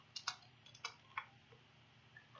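Keys tapped on a computer keyboard while code is written, a few quick soft clicks in an irregular cluster, then sparse faint taps in a quiet room.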